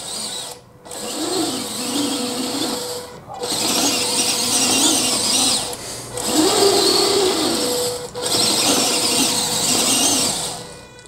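A small motor in an RC F-35B three-bearing swivel module whines and squeals through several calibration sweeps, each lasting a couple of seconds with brief gaps between, close and steady with no talking.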